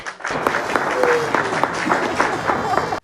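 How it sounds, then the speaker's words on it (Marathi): A short burst of clapping from a small group, steady and fairly close, with a voice briefly heard under it. "म्हणलं टाळ्या"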